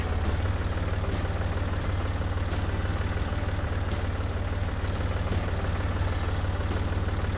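A tractor engine idles in the farming video game Professional Farmer 2014, giving a loud, steady low rumble that holds without a break and has no talking over it.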